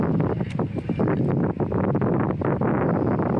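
Wind blows in a constant low rumble across the microphone while a baitcaster reel is cast into it, with faint scattered clicks and rustles over it.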